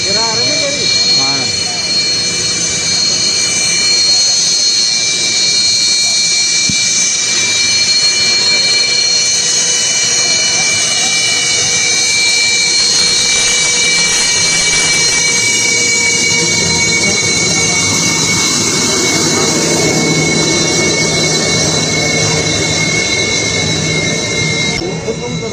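A SEPECAT Jaguar military jet roars continuously on a highway emergency landing airstrip, a loud, steady broadband engine rush with whining tones lasting throughout, with people talking faintly underneath.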